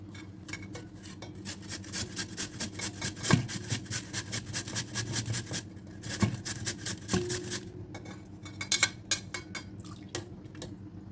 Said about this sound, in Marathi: आता जो भाग जाड आहे त्याने आपल्याला बटाटे किसून घ्यायचे. आपण बटाटे किसून घेऊया.